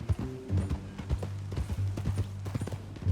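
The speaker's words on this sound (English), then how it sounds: "That a new horse?" Horse hooves clip-clop on the ground in Red Dead Redemption 2, a steady close rhythm of hoofbeats over a low hum.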